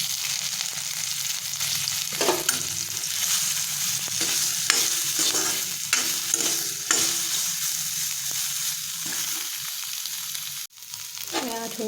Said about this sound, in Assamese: এতিয়া সয়াবিনখিনি ইয়াতে ভাজি লম